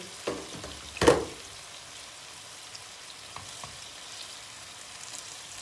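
Chicken sizzling and frying in a covered pan after about 15 minutes of cooking, a soft continuous crackle with a louder clatter near the start.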